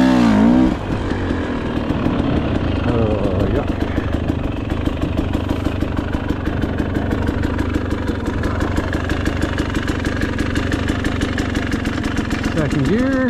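Motorcycle engine running hard to clear out carbon, a steady loud mid-pitched drone with a fast rhythmic pulse and brief revs at the start and end, with a voice speaking over it at times.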